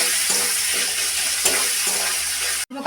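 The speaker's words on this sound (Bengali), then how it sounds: "হালকা লাল করে পেঁয়াজ ভেজে নেব।" Onion fries in oil with black cumin and grated garlic in a pan, a loud, dense, continuous sizzle close by with faint stirring, cutting off abruptly near the end.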